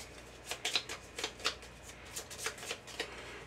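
A deck of playing cards is riffled and shuffled during a Gloomhaven board game, several crisp, fluttering bursts in quick succession, close up and quiet, with no talking.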